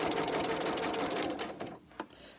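A sewing machine stitches a pleat on a re-covered outdoor boxed seat cushion in one close, rapid whirring run that stops abruptly, followed by a faint click and a short mechanical tick.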